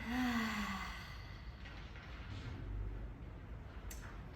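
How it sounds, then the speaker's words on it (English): A deep inhale and a full, complete exhale during a yoga practice, heard as soft, breathy airflow close to the mic, with a brief voiced sigh-like tone at the start. "Inhale deep, and exhale completely."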